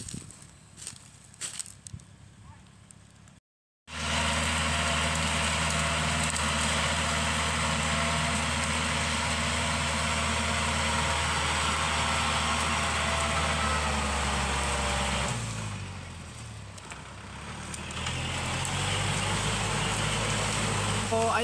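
A farm tractor engine idles and runs steadily while clearing rough ground on a farm lot. The low, continuous rumble is loud and close, then its pitch shifts partway through as the engine labours and recovers.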